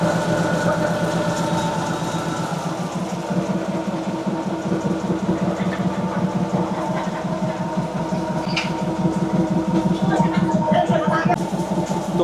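Darjeeling toy train locomotive on the Gayabari line, a steady chugging engine rumble running throughout at close range, with faint scattered background noises on top.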